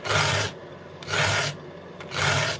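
A file rasping along a chainsaw chain in three long, even strokes with brief pauses between, close and steady with no voices.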